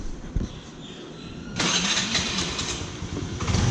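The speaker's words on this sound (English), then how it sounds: "So now let's start the engine." A Honda Active 3G scooter's small engine cranks briefly, then catches and settles into a steady, fairly close idle after about a second and a half of quieter lead-in.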